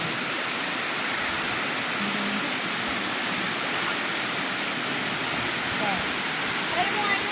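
Buruwisan Falls pouring down in a continuous loud, broadband rushing roar that holds steady and fills the whole scene, with no pauses.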